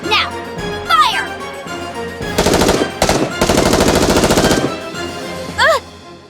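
Rapid automatic gunfire in the video game Goddess of Victory: NIKKE, long dense bursts of machine-gun shots rattling close and loud, with game voices and effect chirps before and after.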